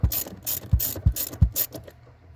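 A ratchet with a 13 mm socket loosens two bolts on a Mercedes GLC 300, producing a quick series of close, sharp clicking strokes, about five in a row, that fade out near the end.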